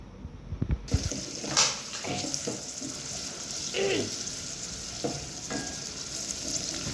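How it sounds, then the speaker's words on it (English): Onions fry in a pan with a soft, continuous sizzle, broken by scraping and clinking stirs and a few knocks of utensils, heard up close. "I'm just cooking the onions, guys, before I add in the tomatoes."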